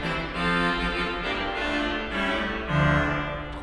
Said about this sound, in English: the Trompette Royale 8 foot